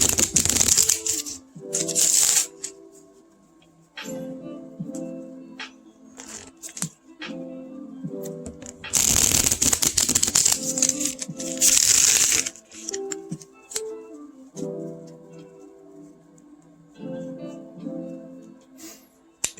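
A small Tiny Tarot deck shuffled by hand in several bursts of riffling and sliding card noise, fairly close, with quieter gaps of light handling between bursts and no talking.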